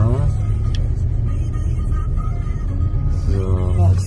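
Car driving slowly toward a holiday park reception in Duinrell, Holland, its steady low engine and road rumble running throughout beneath people talking inside the cabin.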